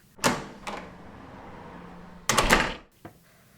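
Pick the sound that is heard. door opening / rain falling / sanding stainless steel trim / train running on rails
door opening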